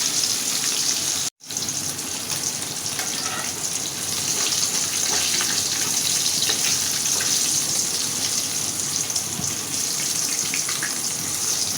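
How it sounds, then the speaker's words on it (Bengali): Hilsa fish pieces coated in salt, turmeric and chili powder sizzle steadily in hot oil, a loud, dense crackle that runs the whole time apart from one brief dropout near the start. "এখন আমি মাছটা ভাজে নিই"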